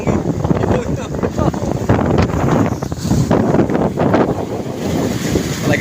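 Strong typhoon wind gusting by a lake with waves, roaring and buffeting the microphone continuously and loudly, with rushing surf underneath and someone talking over it.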